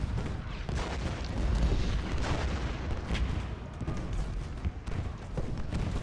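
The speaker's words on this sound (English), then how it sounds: "you want to do me a favor and shoot the cannons?" Cannon and artillery fire in the Civil War battle game Ultimate General: Gettysburg, a dense continuous barrage of booms and gunfire rumbling throughout.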